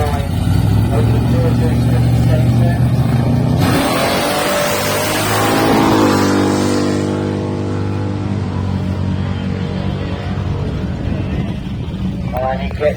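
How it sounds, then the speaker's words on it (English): A drag racing car with a 500 cubic inch stroke big block making 670 horsepower roars loud and close, its engine note rising and sweeping past under a commentator's voice, then fading into a steady drone. "With that 500 cubic inch stroke big block, producing 670 brake horsepower"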